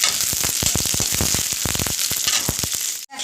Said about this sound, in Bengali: পেঁয়াজটা একটু আমি ভেজে দিই